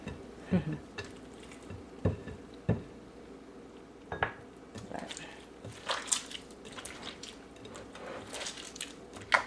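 Deer kelaguen, a Chamorro dish from Guam, being mixed by hand in a bowl, giving faint, intermittent wet squishes and soft knocks scattered through the clip.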